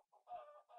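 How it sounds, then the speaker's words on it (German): A Minecraft chicken clucks in short, close, clean bursts, three quick clucks in under a second with no talk over them. "du kleines blödes Huhn."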